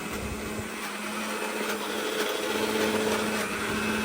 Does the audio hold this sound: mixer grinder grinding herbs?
yes